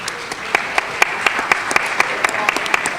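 An audience at a school board meeting applauds the Teachers of the Year as they line up at the front, with distinct claps sounding in a steady patter above a low room murmur.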